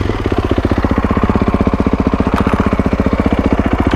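A 2021 Kawasaki KX450X dirt bike engine idles steadily up close, a rapid even firing pulse that stays loud and unbroken throughout with no voices.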